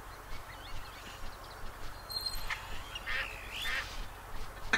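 Ducks quacking and honking in response to a duck call, a few nasal calls at moderate distance over a steady outdoor background hiss, without speech.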